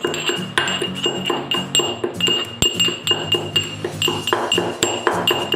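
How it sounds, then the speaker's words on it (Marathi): Cardamom pods are crushed by pounding in a small traditional pounder for sudharas, giving rhythmic, ringing metallic clinks, about two a second, close and steady, with no talking. "हे हे विलायची अशी वाटून घेऊया"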